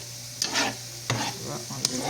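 Plantain slices frying in red palm oil as they are pulled out and turned, three quick scraping stirs over a steady close sizzle, with no speech.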